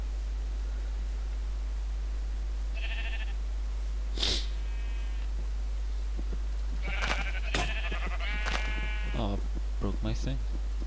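Several Minecraft sheep bleats sound over a steady hiss, scattered across the clip with short gaps, some clustered near the end along with faint rustling.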